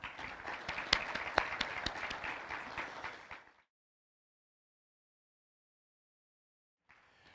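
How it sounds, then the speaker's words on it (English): Conference audience at a veterans summit giving steady applause for about three and a half seconds, with a few louder close claps, then cutting to silence. "So I think we should give her a round of applause."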